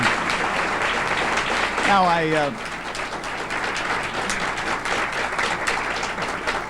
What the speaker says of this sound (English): I appreciate your polite applause